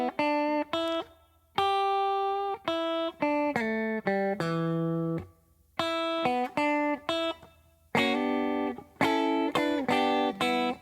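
Gospel guitar riff played at full tempo, clean plucked notes and chords in quick rhythmic phrases with short pauses between groups, close and alone without voices.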